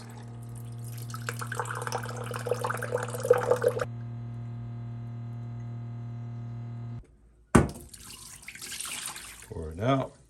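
Water splashes and trickles as it is poured out of the tank of a NU Aqua 4-stage countertop reverse osmosis system, a steady electrical hum underneath, then a second burst of pouring and gurgling after a short pause.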